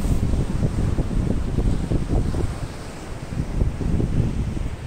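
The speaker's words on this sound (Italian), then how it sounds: "il tempo passa, il vento aumenta" Strong wind roars over the sea and buffets the microphone continuously, with a broad rushing noise of open water or surf beneath it.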